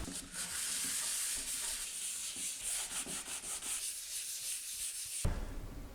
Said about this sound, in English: he recommended that I just give a rough hand sanding before we prime it